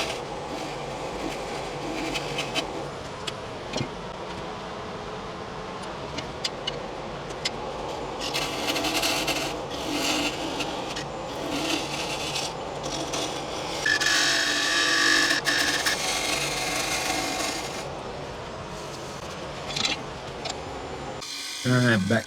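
A round carbide burr carves burnt wood for a custom lamp, giving a steady grinding rasp with bursts of harsher, brighter cutting and short gaps, close up and continuous for most of the span.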